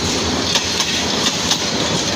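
Tista Express passenger train pulling into the old platform at Gafargaon railway station, a steady loud rumble of rolling cars with faint rhythmic wheel clacks repeating about every quarter second.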